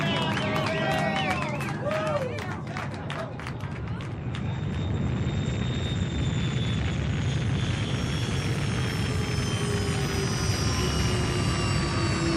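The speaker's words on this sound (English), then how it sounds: "Those are rocket engines." Rocket engines of an arriving spaceship in an old-time sci-fi radio drama: a loud, sustained roaring rumble that swells and holds steady throughout, with voices and sound effects heard at the start.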